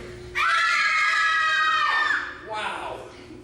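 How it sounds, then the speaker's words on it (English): A live audience screams together on cue, a sustained shrill crowd shriek lasting over a second, followed by a second shorter burst of screams and shouts. "Give me a scream."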